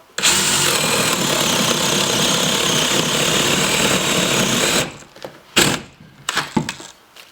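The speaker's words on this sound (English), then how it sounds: "Take your drill." A power drill whines steadily for several seconds as it bores into wood for a wine bottle holder, then stops, followed by a few short clunks and rattles.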